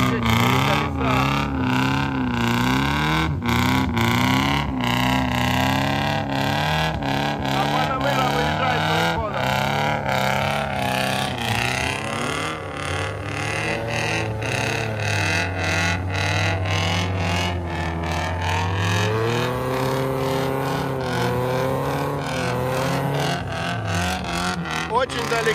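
An off-road race car engine at a trophy sprint off-road race, revving hard and continuously with gear changes and rising pitch, loud and nearby, with a commentator talking over it.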